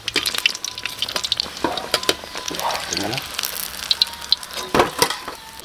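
Pork lechon kawali deep-frying in hot oil, a steady crackling sizzle with irregular bright pops and spatters running throughout, close and moderately loud, with a few faint voices in the background.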